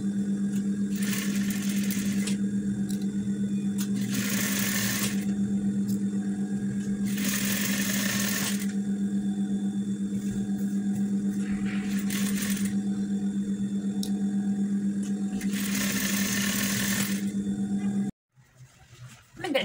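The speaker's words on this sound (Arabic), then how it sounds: "من بعد ما خيطنا هاد الجوانب هادو" A sewing machine stitches the right and left side seams of a dress in a steady run of bursts, each a few seconds long with short pauses between, loud and close, with a constant hum underneath and no talking.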